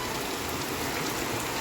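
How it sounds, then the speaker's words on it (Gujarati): Dense, continuous downpour of heavy monsoon rain in Gujarat, a loud, uniform roar of water with no pauses. "એટલો બધો વરસાદ આવી ગયો છે"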